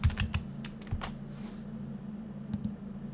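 Typing on a computer keyboard while working in Civil 3D software: a quick cluster of key clicks at the start, a few more isolated taps, then a short pair near the end, close and clear over a steady low hum.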